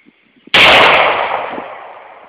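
A single M9 pistol shot fires loud and close with a sharp crack, then rings out in a long echoing decay lasting about two seconds.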